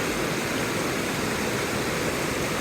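River water rushes steadily along a mountain trek in Kyrgyzstan, a constant broad wash of flowing water close by with no voices.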